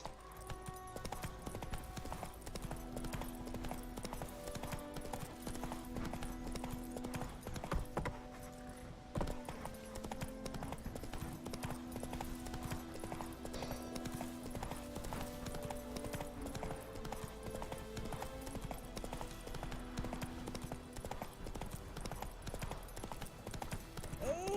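Hooves of the horse Roach in The Witcher 3 clip-clop at a steady galloping rhythm throughout, with game music and ambience underneath and a brief whinny.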